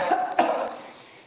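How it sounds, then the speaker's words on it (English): One person coughs twice in quick succession at close range, the second cough a little stronger, then the sound trails off into a quiet room with no one speaking. "Cough."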